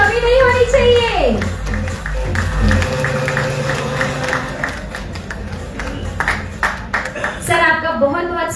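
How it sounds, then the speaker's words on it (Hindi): An audience at a live Bhojpuri film event applauds to welcome an actor onto the stage; a steady crowd clapping with some cheering runs throughout, mixed with loud announcing voices and amplified background music. "तालियों में कमी नहीं होनी चाहिए।"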